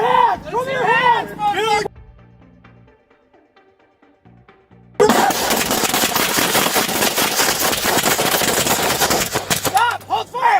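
Gunfire erupts during a police confrontation with sheriff's deputies: shouting voices open the clip, a few seconds of near silence follow, then a sustained, loud barrage of rapid shots continues to the end with voices returning.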